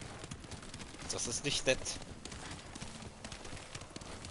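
Horse hooves clip-clopping as a horse is ridden in the video game Ghost of Tsushima, a quick run of hoofbeats under a man's speech and game sounds.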